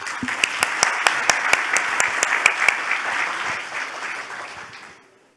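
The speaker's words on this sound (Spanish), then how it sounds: "Un aplauso." An audience at a LAC 2022 conference session applauds, a dense burst of clapping with some sharper individual claps that holds for several seconds and then fades out.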